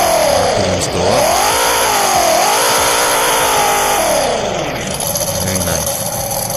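Loud, close engine revving from a car in Roblox Greenville, the pitch rising and falling in repeated swells as the RPMs climb and ease off, alone and continuous.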